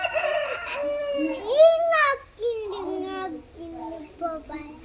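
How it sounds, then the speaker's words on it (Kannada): A rooster crows loudly and close by in a village setting, its drawn-out calls repeating several times, with voices talking at moments around it. "ಕೋಳಿ"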